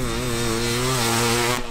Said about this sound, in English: So Sean's out on the YZILLA YZ500, about to set his hot lap